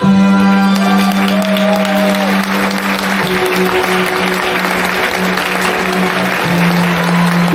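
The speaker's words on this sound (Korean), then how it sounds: "힘찬 박수와 환호성을 보내주시길 부탁드리겠고요" Wedding guests clap enthusiastically and steadily as parents make their entrance, the dense applause running the whole time over sustained tones of processional music.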